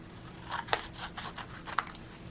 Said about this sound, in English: I'll put these all in a row, and then just go through and cut a bunch out at once.